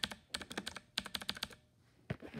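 A mechanical keyboard with blue switches clicks in quick bursts of sharp, crisp keystrokes, close up, with a short pause before a final couple of presses.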